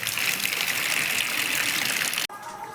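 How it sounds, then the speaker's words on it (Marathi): Rainwater from the fields after heavy rain flows along a small road, making a steady, close rushing gush that cuts off abruptly near the end. "आपल्या छोट्या रस्त्याने शेतातले पाणी वाहत आहे"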